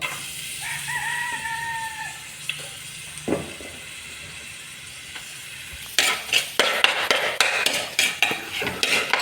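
Garlic sautéing in a pan, a soft sizzle with light stirring scrapes early on, then busier clattering and frying crackle in the second half, fairly close.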